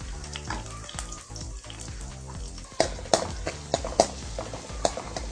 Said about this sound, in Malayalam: അതിനുശേഷം നമുക്ക് ഉള്ളി ഇട്ട് കൊടുക്കാം.